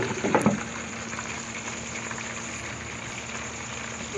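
Potato fries cook in a covered pan over low heat, giving a steady, soft bubbling sizzle throughout, with a brief clatter near the start.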